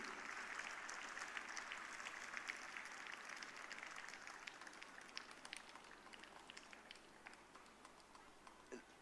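A large crowd applauds at a school event, with a dense, steady patter of clapping that slowly thins and fades toward the end, heard from a distance with a faint hum underneath.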